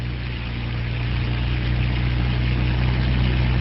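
A hovercraft roars along at speed, its engine and propeller droning loud and steady, growing slightly stronger, with no voices.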